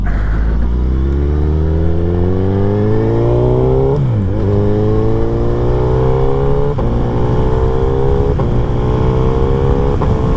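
A motorcycle engine revs up through the gears while riding on city streets, rising harmonic whine with a shift dip around four seconds, steady and close throughout.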